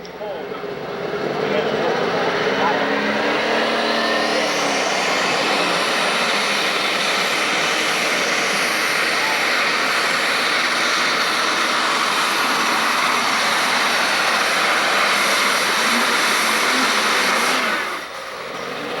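A Massey Ferguson 3660 tractor's engine roars loud and sustained during a 1996 Freeport, Illinois tractor pull, rising at the start, holding a heavy drone for most of the run, then cutting off near the end, with an announcer talking over it.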